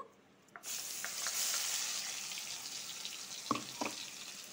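Ground spice paste is tipped into hot oil, and a sudden loud sizzle bursts in and settles into a steady frying hiss, with a couple of brief clinks near the end.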